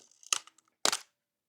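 Bronica medium format camera shutter firing quickly at its 1/500 second mechanical speed: two short, crisp mechanical clicks about half a second apart, close and fairly quiet, with nothing else heard.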